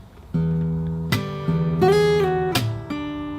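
Fingerstyle acoustic guitar plays the next bar of a song, a handful of clear plucked notes and chord changes over an E bass note, close and moderately loud, with no speech.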